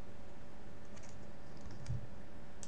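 Soft keystrokes on a computer keyboard tap out a short word, a few light clicks over a low steady room hum, no voices.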